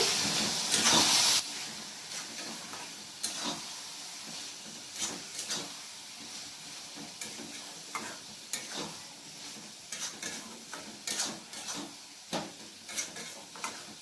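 Frozen peas going into a pan for a tadka matar mushroom curry, giving a soft sizzle broken by sharp clinks of a spoon stirring against the pan, with one louder burst near the start; no talking.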